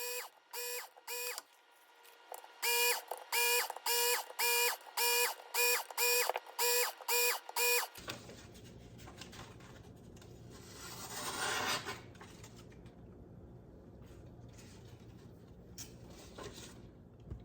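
Work Sharp knife sharpener working on steak knives, a series of about a dozen rhythmic whirring passes of grinding and rasping, close and fairly quiet, followed by a softer continuous rubbing hum.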